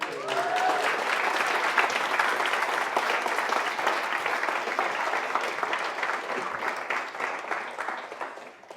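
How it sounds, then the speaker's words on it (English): Wedding guests give the bride a warm round of applause during the reception speeches, a full burst of clapping from a seated crowd that swells quickly, holds steadily, then begins thinning toward the end. "Round of applause for the bride."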